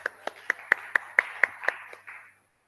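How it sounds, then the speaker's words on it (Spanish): Short round of applause from a small class. It starts as about nine separate, evenly spaced hand claps, then tails off into a brief ragged patter and stops, close and fairly quiet. "Dale un aplauso a Luisi, que se puso la 10."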